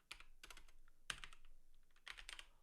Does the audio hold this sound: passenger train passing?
no